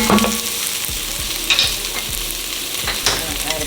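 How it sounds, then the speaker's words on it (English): Onions sautéing in a pan for beef ramen soup, a steady close sizzle with the scrape and clatter of a utensil stirring every second or so, no one talking. "we saute these onions"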